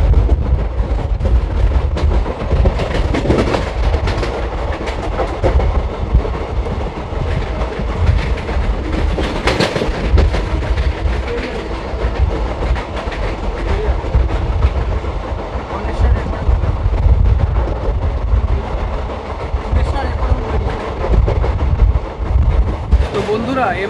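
A Kolkata to Digha special passenger train runs with a steady loud rumble and rattle, broken by clattering thumps, while people talk in the carriage.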